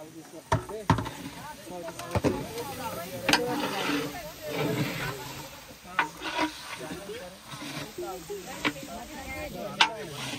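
Spices temper in hot oil for a mutton dish cooked outdoors at a temple fair, giving a hissing sizzle with sharp spits and crackles beneath people talking nearby.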